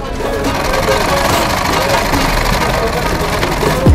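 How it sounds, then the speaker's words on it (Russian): A sewing machine stitches at a market stall in Dubai with a continuous rapid whirring drone, half-buried in dense crowd bustle and nearby talking. "чувак прям тут, прям на швейной машинке что-то строчит"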